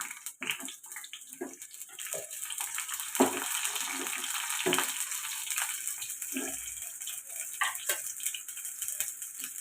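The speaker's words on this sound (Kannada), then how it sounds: "ಸ್ವಲ್ಪ ಎಣ್ಣೆ ಆಯಿಲಲ್ಲಿ ಬೇಯಬೇಕು, ಸ್ವಲ್ಪ ಕೆಂಪಾಳ ಆಗಬೇಕು ಈರುಳ್ಳಿ." Onions frying in hot oil for chicken chops make a steady, bright sizzling hiss with scattered crackles and pops, close and moderately loud throughout, with no talking.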